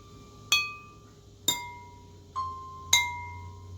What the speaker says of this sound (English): do you think this glass note is higher or lower than the piano note?